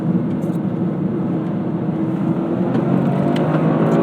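A Toyota GR Corolla turbo hatchback drives at speed, its engine and turbo producing a loud, continuous drone with a slight swell toward the end, and no voices over it.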